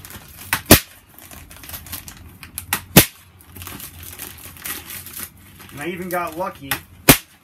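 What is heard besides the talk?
stapling batt insulation vapor barrier to studs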